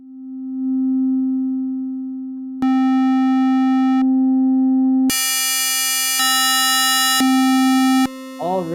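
A synthesizer tone run through hard-clip distortion holds a steady pitch, then switches abruptly between cleaner and harshly buzzing, harmonic-rich settings in several blocks, loud and alone with no talk.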